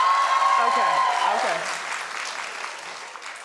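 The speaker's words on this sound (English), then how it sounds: "clapped if you watched Atlanta Housewives last night" A studio audience at a daytime talk show breaks into loud applause that fades gradually over a few seconds, with a brief spoken word over it.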